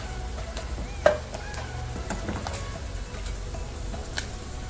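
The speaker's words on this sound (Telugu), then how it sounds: "ఈ రొయ్యలు బాగా వేగాలి. కలర్ మారేంత వరకు." Prawns frying in oil for a prawn pickle, a steady soft sizzle with scattered crackles and a few stirring clinks, close and continuous, with no talking.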